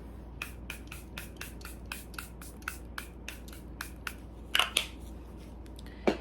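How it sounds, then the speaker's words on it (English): Rapid, repeated short spritzes of Charlotte Tilbury Airbrush Flawless setting spray, a dozen or more quick pumps close to the mic, followed by a few louder bursts. "I'm also using Charlotte Tilbury setting spray, the Airbrush Flawless setting spray"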